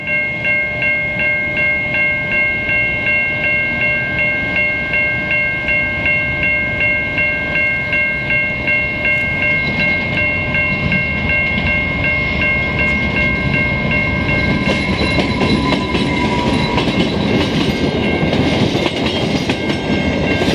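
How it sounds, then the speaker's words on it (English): An intermodal freight train rolls past in Montreal, its steady rumble and rhythmic clickety-clack of wheels over rail joints carrying on throughout, with a sustained horn tone at the start. No one talks. "I just filmed an intermodal freight."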